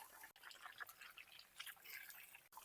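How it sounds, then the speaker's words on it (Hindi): Handfuls of water splash softly onto a puppy's face to rinse off shampoo during its first bath, giving close, quiet, irregular dribbling and splashing sounds with no talking. "मैं हाथ में पानी डाल के क्लीन कर रहा हूँ"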